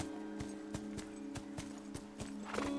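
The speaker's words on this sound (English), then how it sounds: "You can dismount the horse." Steady, evenly spaced video game hoof clops from a horse at a walk over a constant droning background hum, with no talking.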